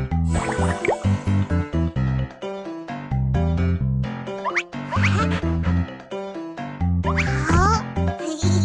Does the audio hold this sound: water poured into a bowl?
yes